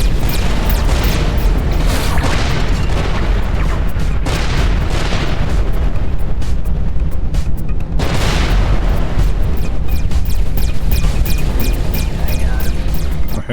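Dense gunfire and heavy booming explosions fill the space combat of Everspace 2, loud and continuous. Rapid shot bursts mix with deep blasts, and a faster rattling volley builds toward the end.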